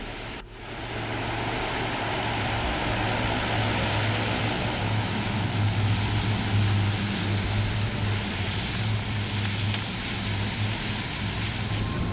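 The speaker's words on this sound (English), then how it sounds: "IL-18 Coot aborted takeoff from the 8202 feet-long airstrip at Cabinda, West Africa." An Ilyushin IL-18 Coot turboprop airliner aborts its takeoff on the runway at Cabinda, West Africa, with a loud, steady roar and propeller drone that holds for the whole stretch after a brief knock at the start.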